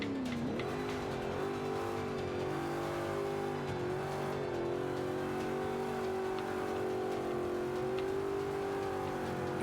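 Vintage Ford Mustang racing in Forza Motorsport 5, its engine droning loudly and continuously at high revs, pitch rising and dipping slightly through gear changes and corners, with no talk over it.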